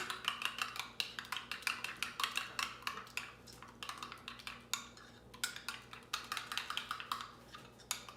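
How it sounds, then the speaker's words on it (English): A spoon scraping and clinking rhythmically against a bowl while sriracha sauce is stirred in for fish or shrimp tacos, quick repeated taps close by and fairly quiet, no voices. "you're gonna go ahead and mix this up really good. Use a spoon."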